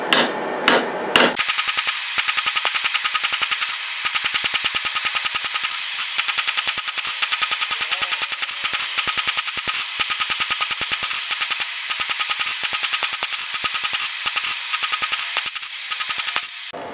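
A hammer forging a steel bar square for a dice bottle opener, ringing blows on an anvil repeated rapidly and steadily for the whole stretch, loud and close.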